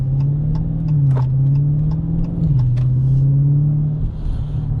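A 2019 widebody Dodge Challenger with its engine running, a loud, steady low rumble with a slight dip in pitch partway through, heard close and alone.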